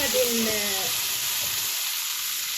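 Potatoes frying in oil in a pan give a steady close sizzle that fades over about two seconds, with a faint stir or clink at the start.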